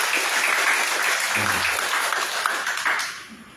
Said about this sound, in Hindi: यदि ताली कोई बजाना चाहे प्रभु के लिए